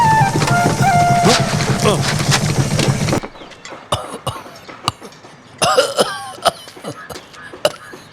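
A man coughing hard and clearing his throat in a Telugu comedy film scene, a dense burst of harsh coughs followed by scattered lighter coughs and sputters, close and loud.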